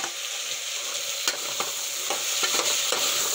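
Tomatoes added to peas frying in oil and stirred, a steady sizzle with a few sharp scraping strokes of the spoon against the pan.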